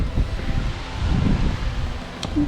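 Steady wind buffets the microphone on a cliff along the Bright Angel Trail in the Grand Canyon, a continuous low roaring gust with some rustling, loud and close, no voices.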